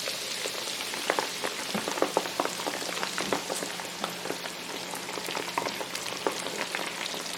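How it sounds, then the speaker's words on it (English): Shrimp dropped into hot oil for a fish fry crackle and pop steadily, a dense close sizzle with scattered sharp spits running throughout, no voices. "let's get these shrimp all fried up"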